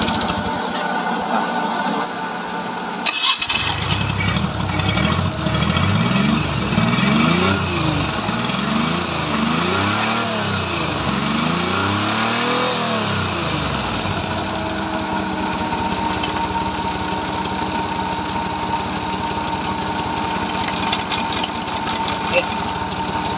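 A flooded carbureted Suzuki F6A 12-valve engine in a PUJ jeepney cranks and catches, then revs up and down in several rising and falling surges before settling into a steady idle, loud and close, with people talking nearby.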